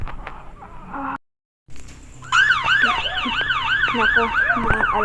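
A police car siren wailing in a steady, repeating rise-and-fall pattern, loud and close, coming in after a short silence that follows some background noise.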